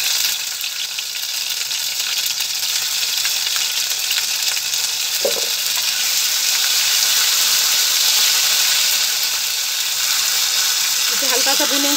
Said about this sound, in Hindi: देखिए अदरक भून चुका है मेरा।